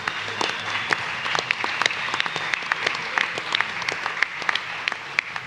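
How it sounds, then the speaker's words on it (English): Scattered applause from a modest audience at a reggae book launch, sharp individual claps crackling near and far without a pause, no speech over them. "give him another round of applause"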